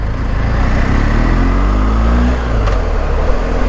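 A motorcycle engine pulls away nearby, its steady loud drone rising in pitch through the gears, heard alone without talk.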